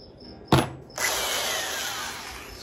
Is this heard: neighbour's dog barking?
no